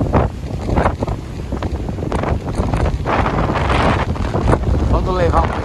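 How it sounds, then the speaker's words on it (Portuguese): Strong wind of about 32 km/h blows near plantations, buffeting the microphone with a loud, continuous gusty roar and rumble close by, while someone speaks intermittently over it. "Vocês viram aí como o vento tá forte hoje?"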